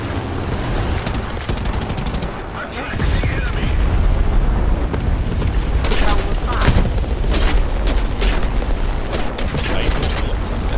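Rockets strike an aircraft in the combat flight game War Thunder, a dense barrage of booms and cracking impacts over a constant loud engine roar, with a voice faintly under the din.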